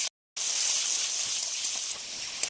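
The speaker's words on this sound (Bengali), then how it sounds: "এবার ভাজার জন্য নেড়ে দেবো।" Whole spices and two large chopped tomatoes fry in a hot pan while being stirred, giving a steady, bright sizzling hiss that resumes after a brief silent gap, with faint scrapes underneath.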